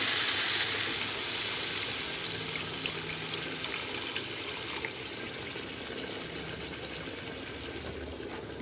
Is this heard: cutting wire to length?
no